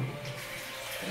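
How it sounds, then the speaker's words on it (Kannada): Water pours from a glass into bitter gourd juice, a short, soft, steady splash heard alone and close. "ಒಂದು ಗ್ಲಾಸಷ್ಟು ನೀರು ಮಿಕ್ಸ್ ಮಾಡಿ"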